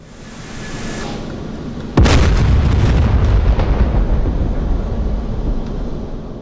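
A GBU-38 bomb detonates in the DCS F-15E Strike Eagle flight simulator, landing as a single sudden loud boom that rumbles and decays over several seconds above a steady engine drone.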